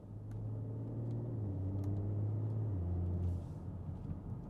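A tuned BMW X5 45e (G05) with its particulate filter removed idles with a warm exhaust, giving off a steady low rumble whose pitch dips slightly midway before settling.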